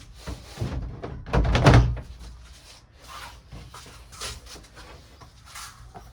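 A plastic door panel on a small Rubbermaid 5 x 2 ft plastic shed is pushed into its mounting holes, giving a loud hollow thunk with rubbing and knocking, then quieter scrapes and taps close by.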